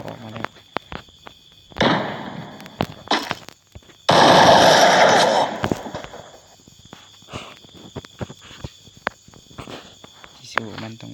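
Rapid bursts of in-game gunfire from a shooter video game as the player aims at enemy heads, loud sharp cracks with a dense sustained volley in the middle, a voice talking over parts of it.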